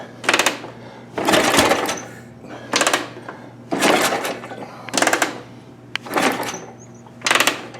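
Spark plug test while cranking a 1949 Harley 45 Flathead, seven bursts of sharp rapid ticking and popping, each about half a second to a second long, separated by short pauses under a low steady hum.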